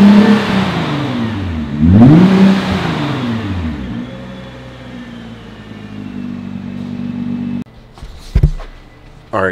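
A 2021 Nissan GT-R with stock exhaust revs hard several times, climbing and falling in pitch, then settles into a steady idle before a few sharp knocks near the end.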